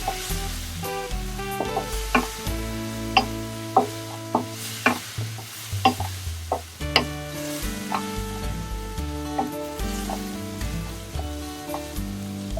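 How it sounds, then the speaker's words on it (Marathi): Coriander powder being roasted and stirred in a pan for Irani chicken kheema, a steady close sizzle with repeated spoon strikes and scrapes against the pan, no voices. "धना पावडर, छान खरपूस भाजायचा."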